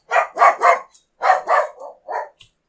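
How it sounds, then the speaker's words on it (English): A pet dog barks in a quick run of about eight sharp, loud barks, three close together, a short pause, then several more tapering off, close to the microphone with no talking. "My doggy likes to bark."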